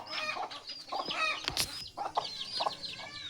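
Farm chickens clucking and calling close by, several short overlapping clucks and squawks in quick irregular bursts with a sharp louder cry in the middle, no talking.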